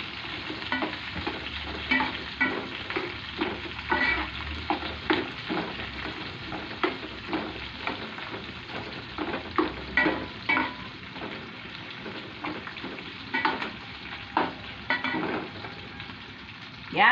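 Onions fry in a pan for a long stretch, a low, steady sizzle broken by frequent sharp stirring scrapes and clinks that come near and loud, with no talking.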